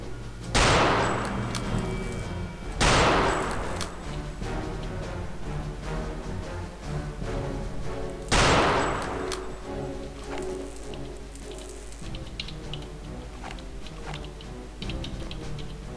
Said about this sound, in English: Oh, someone's shooting.